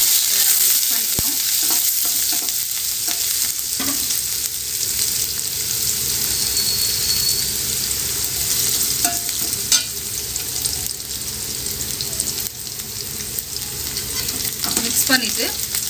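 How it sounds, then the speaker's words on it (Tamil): Grated ginger and garlic sizzling in a hot pan, a continuous bright crackle with occasional stirring scrapes and clinks, close and steady throughout, no voices. "பூண்டு, இஞ্சি பூண்டு ஆட் பண்ணிக்கிறோம். மிக்ஸ் பண்ணிக்கிறோம்."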